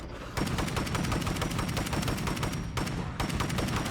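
Rapid automatic gunfire in the zombie survival video game State of Decay 2, loud sustained bursts of shots with two brief pauses, dense and close, no talking.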